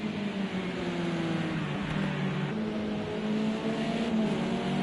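A race car engine drones and revs steadily in a touring car race on the Sonoma short circuit in a racing video game, with exhaust flames mentioned, a continuous mid-loud hum with slight pitch shifts.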